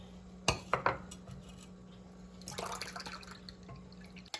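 Milk and coconut milk are poured and mixed in a kitchen, with a few sharp clinks of a utensil against a container, then a softer stretch of sloshing and stirring over a low steady hum.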